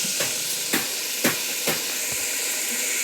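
Tomatoes go into onions fried until brownish for chicken biryani, bringing a loud, steady steamy hiss with four sharp scraping spoon strokes spaced through it.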